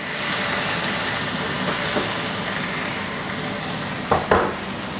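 Salmon fries in a pan with a steady, close hiss and sizzle, and a couple of brief clatters near the end, with no talking.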